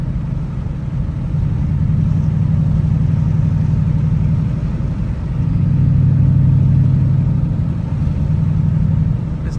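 A Dodge Challenger SRT8 drives along with its engine droning steadily inside the cabin, swelling into louder revs twice, with no talking.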